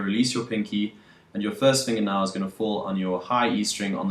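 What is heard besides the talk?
No everyday noise stands out behind the speech.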